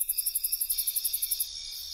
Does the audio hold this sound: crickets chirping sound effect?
yes